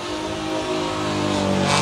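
Drag racing cars launching down a strip at an Amazonas drag racing championship, including a Chevrolet Omega, with a loud rising engine roar building steadily as they accelerate, no talk over it.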